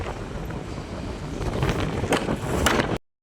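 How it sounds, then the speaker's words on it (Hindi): Cold wind gusts hard across an outdoor worksite in Saudi Arabia, a loud rough rumble buffeting the microphone that builds in strength before cutting off abruptly. "माशाल्लाह बहुत ठंडी हवा चल रही है।"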